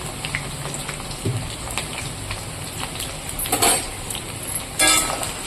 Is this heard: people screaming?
no